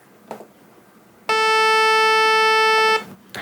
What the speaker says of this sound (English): obnoxious beep, which is a saw waveform